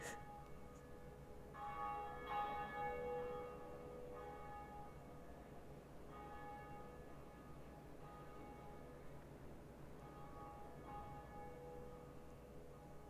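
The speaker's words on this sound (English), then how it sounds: "as soon as we pull this lever, the bell's gonna ring" A large bell tower bell rings in Dark Souls Remastered, a faint echoing church-style peal with repeated strikes over a long resonant hum, distant and unaccompanied by talk.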